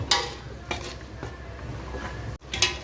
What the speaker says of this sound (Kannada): ನೋಡಿ ಈ ಥರ ಚೆನ್ನಾಗಿ ಕುದಿಬೇಕು, ಒಂಥರ ಗೊಜ್ಜು ಕುದ್ದಂಗೆ ಚೆನ್ನಾಗಿ ಕುದಿಬೇಕು.